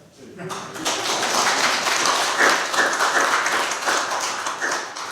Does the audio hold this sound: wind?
no